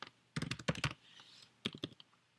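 Typing on a computer keyboard, a close, quiet burst of rapid key clicks, a short pause, then a few more taps.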